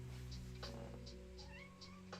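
A pet cat meows several times in a row, short mid-pitched calls close to the microphone, over a steady background hum at a reading session.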